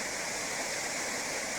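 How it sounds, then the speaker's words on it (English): Swallow Falls, a waterfall on the Afon Llugwy, a tributary of the River Conwy, roars as steady broadband rushing water, continuous and fairly close with no pauses or voices. "Swallow Falls, a waterfall which sits on the Afon Llyghi, a tributary of the River Conwy"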